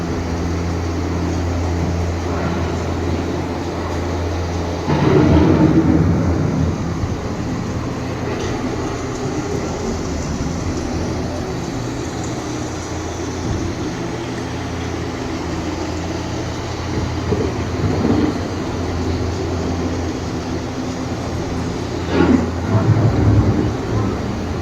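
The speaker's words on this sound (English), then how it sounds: "The approaching storm may seem violent and destructive to us, but to nature, it's a new beginning in the cycle of life." An approaching thunderstorm on EPCOT's The Land ride plays as a steady low rumbling roar, with heavier thunder-like surges at intervals.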